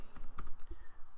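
Quick bursts of typing on a computer keyboard, a handful of close, light key clicks tapped in an uneven rhythm over about a second.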